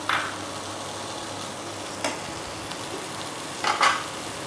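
Corn being fried and stirred in a pan while a street-style corn chaat is made, with a soft background sizzle and a few brief scraping stirs spaced seconds apart.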